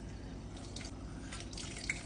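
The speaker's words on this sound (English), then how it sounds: "Final touches include the juice of 1 full lemon." Lemon juice from one whole lemon drips into a pot of chicken noodle soup, giving a steady run of faint liquid drips and soft splashes over a low simmering background, with no talk.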